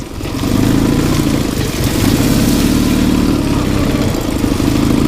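An MT motorcycle with a sidecar roars loudly and steadily for several seconds, its low engine rumble sustained and near, with no break and no talk.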